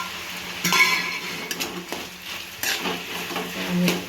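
Spice powders of coriander, chilli and cumin being stirred into vegetables in a pan, with a spoon scraping and clinking against the metal over a soft sizzle, in uneven strokes.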